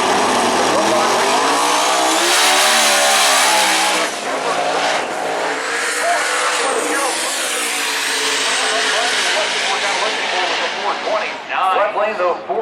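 Race cars accelerate hard down the drag strip at Maryland International Raceway during a drag racing event, a loud sustained engine roar rising in pitch over the whole run, then fading with crackling near the end.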